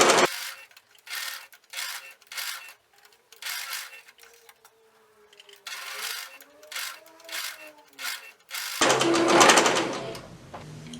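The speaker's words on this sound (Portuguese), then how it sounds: "vou passar uma costurinha aqui em cima do risco também, lembrando do retrocesso no início e no final" Bursts of a sewing machine stitching the ears of a plush teddy bear, running in several short runs separated by pauses, with a heavier whirring burst near the end; close and fairly loud with no talking.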